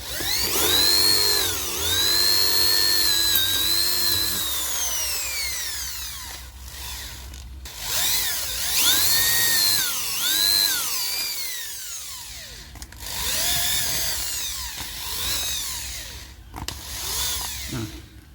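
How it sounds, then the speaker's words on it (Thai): A power drill bores a 30 mm hole in a truck's rear light panel, its motor whining and rising in pitch across several bursts separated by short pauses, loud and close, with no voices. "จะเจาะตัวเจดีเจาะเข้าไปนะ เจาะให้ได้ 30 มิลนะครับ"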